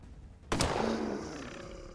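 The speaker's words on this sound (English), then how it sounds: "And you do some shooting here." A single sharp shot from a firearm in the space RPG Colony Ship cracks out loudly, followed by a long, fading reverberant boom.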